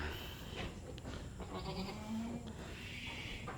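Boer goats bleating at a goat farm in Bulungan, North Kalimantan, Indonesia, several wavering bleats overlapping amid farmyard background noise, fairly close and moderately loud.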